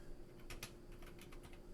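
Keystrokes on a computer keyboard, a quick irregular run of soft clicks with a couple of louder taps, faint and close over a low steady hum.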